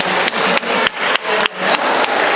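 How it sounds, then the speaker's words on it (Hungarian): A crowd at a carnival costume parade claps for a child dressed as Sleeping Beauty, the loud applause pulsing in a steady rhythm of roughly three beats per second. "Tapsoljátok meg Csipke Rózsikát."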